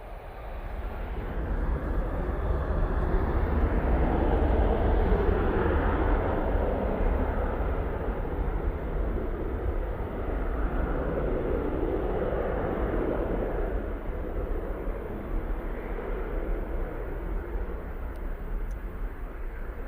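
A Boeing 737-800 taking off for Barcelona, a loud, broad roaring rumble that swells and surges while rolling, holding strong and steady with no speech over it.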